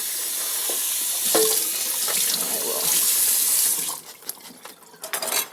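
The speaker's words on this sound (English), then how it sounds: "a little rinse." Running tap water splashes into a kitchen sink for a quick rinse of salad greens, a steady close hiss for about four seconds before the flow stops and a few scattered drips and clatters follow.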